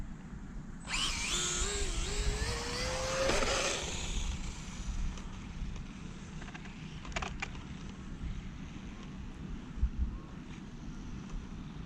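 HobbyKing HKM-390 1/8-scale brushless RC motorcycle spinning up with a rising electric whine, loud for a few seconds and then easing off, leaving steady wind and outdoor noise with a few faint clicks.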